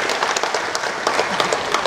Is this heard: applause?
yes